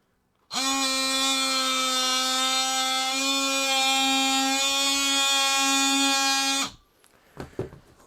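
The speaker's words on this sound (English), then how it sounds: "I'm going to make my first cut right in the middle there, and I'm going to use my power tool to do it." A power tool whines at a steady high pitch as it cuts through a clump of dahlia tubers, loud and close for about six seconds before stopping abruptly, followed by a few faint handling knocks.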